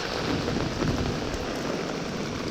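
Heavy rain pours down steadily on a tent at a mountain campsite in northern Italy during a sudden summer thunderstorm, a dense, loud wash of drops with a low rumbling undertone and no voices.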